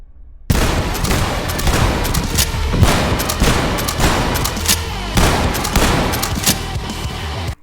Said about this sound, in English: You'll have access to rifles, submachine guns, and even shotguns.